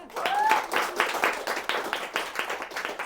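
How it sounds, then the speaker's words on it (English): A modest audience at a live literary book event applauds, with close, crisp hand claps in bursts and a faint whistle-like tone near the start, fading slightly toward the end. "Let's just also give a big round of applause to Kirsty one more time."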